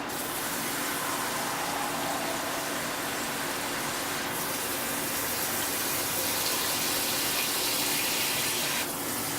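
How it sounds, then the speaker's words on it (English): Water pours steadily into a pot of plov with meat, carrots and onions, a continuous loud gushing rush that holds unbroken throughout with no voices over it. "Now we're gonna cover it with water."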